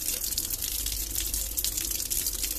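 Tap water runs steadily to rinse freshly dyed cloth, a close, continuous gushing splash into a sink or basin with no talking.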